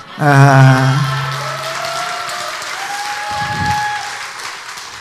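Applause at a church children's worship service, starting under a sustained sung or spoken tone from a single voice, then steady clapping continuing through the rest.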